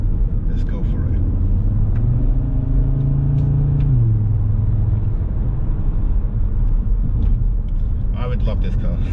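A car engine accelerating on a hill-run circuit, a loud continuous drone whose pitch climbs, holds and then drops as the driver changes gear, with the driver talking over it throughout.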